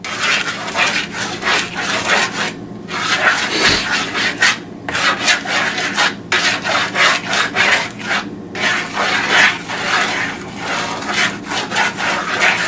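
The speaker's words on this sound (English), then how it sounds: "Now I want to keep stirring it until the chocolate completely melts." Melting chocolate is stirred in a pot, giving a continuous close scraping and rubbing of the utensil against the pot in uneven repeated strokes, with no talking.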